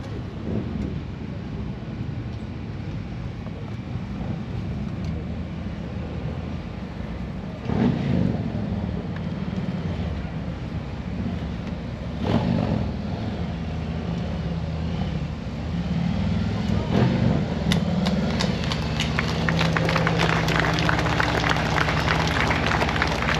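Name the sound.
Harley-Davidson motorcycle riding in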